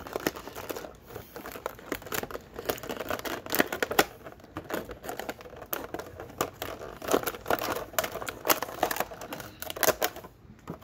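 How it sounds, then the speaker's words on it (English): Toy packaging for a Masters of the Universe Origins Ninjor figure being cut open and pulled apart: a steady run of close plastic crinkling, snipping and tearing clicks with no talk. "Cut open Ninjor here and get him out of the container."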